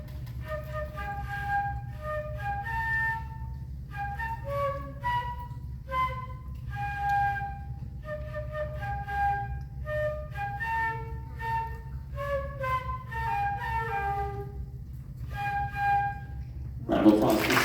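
A sixth-grade student plays the opening of a tune as a flute solo at a middle school band concert, a clear melodic line of phrased notes over a steady low room hum, ending with a short burst of noise.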